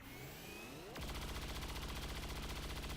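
Gunfire from the XCOM 2: War of the Chosen strategy video game: after a quiet stretch with a rising whine, a loud burst of rapid automatic shots rattles on steadily for about two seconds.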